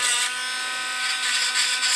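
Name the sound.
sanding a 3D print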